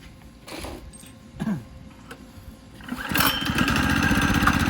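A custom 212cc Hemi moped engine is pulled a couple of times, sputters, then catches and runs with a loud, buzzing high-pitched drone.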